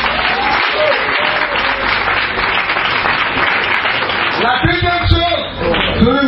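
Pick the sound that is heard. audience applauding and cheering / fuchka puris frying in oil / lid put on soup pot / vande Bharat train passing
audience applauding and cheering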